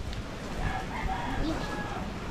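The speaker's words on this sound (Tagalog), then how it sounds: "Oh, yung mga manok dun oh." Chickens cluck and a rooster crows at a distance across a flooded fishpond area after a typhoon, faint calls rising over steady outdoor background noise.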